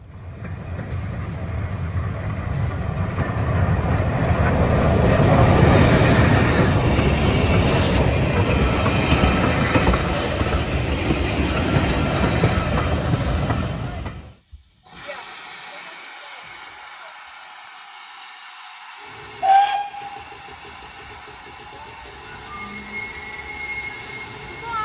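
A train rolls past close by with a heavy rumble and rattling wheels that fades out, followed by quieter background noise and a brief squeal.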